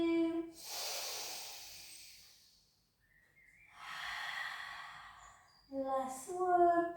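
Deep breaths drawn and released during a gentle breast cancer rehab pilates session, two long airy exhales separated by a pause, then a few short voiced sounds near the end.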